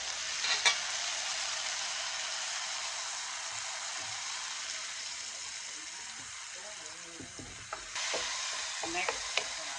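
Fresh tomatoes frying with spinach and roasted garlic in a pan, giving a steady, even sizzle throughout with a few faint clinks and stirring knocks near the end.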